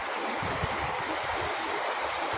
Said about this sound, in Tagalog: Dito malakas ang agos ng tubig